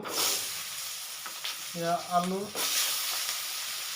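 Potatoes fry in a pan with a steady soft sizzle while a spoon stirs them in a few scraping strokes, and a brief voice is heard in the middle.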